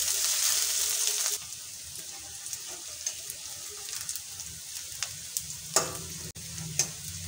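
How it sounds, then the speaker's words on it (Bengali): Chopped garlic, ginger and onion frying in a pan for chicken patties, starting with a loud, bright sizzle that drops to a softer crackle as a utensil scrapes and stirs with irregular knocks. "এখন দিয়ে দেব রসুন কুচি, আদা কুচি। আর কিছুক্ষণ নাড়াচাড়া করে নেব।"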